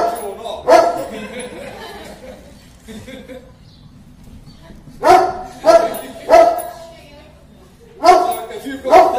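A sheep dog on a New Zealand farm barks in loud, close bursts of two or three barks at a time, separated by pauses, with someone talking over and between the barks.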